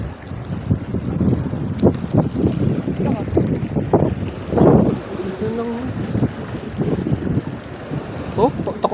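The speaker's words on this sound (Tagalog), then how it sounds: "Nasa lakas pa ng hangin!" Strong wind at sea buffets the microphone from a small boat during fishing, a continuous gusty roar with bursts. Excited voices shout over it.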